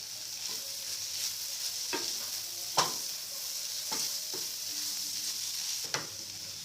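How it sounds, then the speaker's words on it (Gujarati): Kantola (spiny gourd) curry fries with a steady soft sizzle as garam masala and coriander-cumin powder are stirred in, with a few distinct spoon scrapes and knocks against the pan, close by and with no voices. "ઉમેરી અને મિક્સ કરી લઈએ।"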